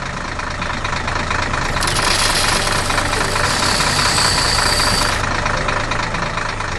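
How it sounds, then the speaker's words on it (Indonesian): Animated green tractor planting seeds in a field, its engine running steadily as a continuous loud idling drone with a knocking rumble, a brighter hiss layered in for a few seconds midway. "traktor hijau sibuk menanam benih baru ke dalam tanah agar tumbuh subur kembali."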